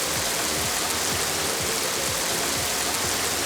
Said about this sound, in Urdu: راولپنڈی اور اسلام آباد میں بارش سے جل تھل ایک ہو گیا۔